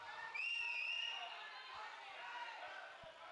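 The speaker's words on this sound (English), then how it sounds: "Loud and proud, cheering their team on." Fans cheering their team at a padel tournament, a faint distant crowd roar with a rising whoop early on and a few soft court thumps underneath.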